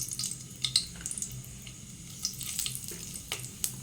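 Whole spices sizzling in hot oil in a pan while preparing broiler chicken, a steady low crackle with brief sharper pops and spits scattered throughout, no talking.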